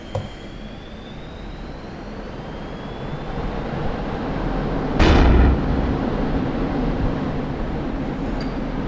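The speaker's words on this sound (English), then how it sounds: "Bombs away." Bombs dropped from a MiG-29A in the DCS flight simulator hit with a single dull, heavy explosion, heard over the steady roar of the jet's engine in the cockpit.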